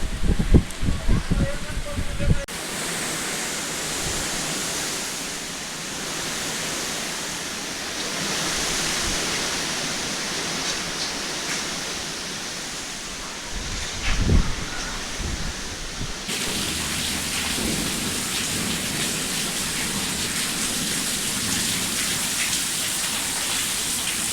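Steady heavy rainfall with a windstorm in a Gujarat village roars as a broad, constant hiss, with a brief louder burst of sounds near the start and midway.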